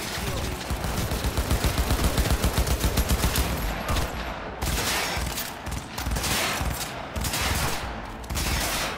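Rapid automatic gunfire in Cyberpunk 2077, loud dense bursts dominating the first few seconds, then further volleys and intermittent shots with brief pauses, all close and punchy.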